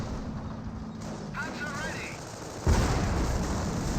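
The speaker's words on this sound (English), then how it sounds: "Pershing received a bit of fire." Tank combat in a World War II strategy game, with a Pershing tank under fire. Gunfire crackles against a steady background din, and a sharp, loud impact lands partway through. A voice talks over much of it.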